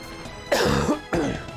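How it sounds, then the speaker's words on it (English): Two coughs close to the microphone, the first longer and rougher with a throat-clearing quality, the second shorter, with no talking. "I'm trying to like aim my head literally away from the mic when I have to cough"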